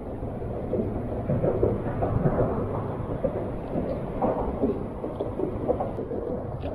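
Thunder from approaching storms rolls as a low, continuous rumble that fills the scene, moderately loud and without voices.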